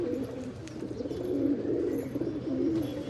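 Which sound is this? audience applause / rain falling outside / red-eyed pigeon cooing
red-eyed pigeon cooing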